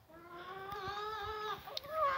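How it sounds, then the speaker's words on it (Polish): Chickens eating husks give soft, close clucks and murmurs, brief and fairly quiet, with no talking. "kury właśnie dostały łupiny, jak widać jedzą"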